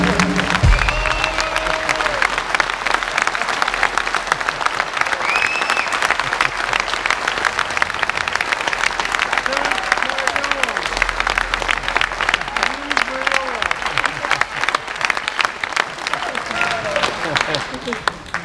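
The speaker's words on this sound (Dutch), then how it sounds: "Graag een applaus voor deze tappere strijder." Audience applause on a Dutch television talk show, a long, sustained roll of clapping from a crowd, loud and even throughout, with voices and brief tonal sounds rising over it.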